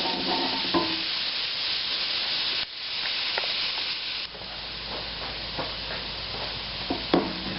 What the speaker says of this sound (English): our onions are starting to sweat down nicely.